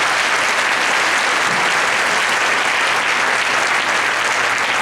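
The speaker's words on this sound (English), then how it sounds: "Round of applause." Audience applause at a community political meeting, a sustained wash of many hands clapping evenly and loudly for about five seconds, no voices standing out above it.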